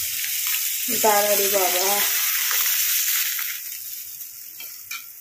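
Bhola fish sizzles in hot oil in a pan, a steady broadband frying hiss running throughout, with a brief spoken phrase near the start and a few small clatters later.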